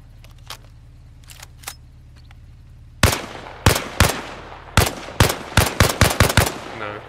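Gunshots crack in DayZ as someone shoots out lights: a few faint distant pops early on, then a loud close run of single shots, spaced at first and speeding up into a rapid string near the end.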